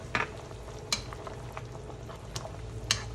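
A spoon stirs korma masala into chicken nargisi kofta gravy in a pan, a few soft scrapes and clinks against the metal over a low, steady sizzle, with no talking.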